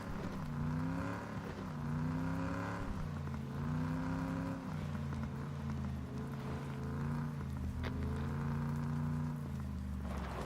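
A car engine in a console battle-royale game hums steadily and rises and falls in pitch as it shifts and accelerates, a continuous moderate drone with no break.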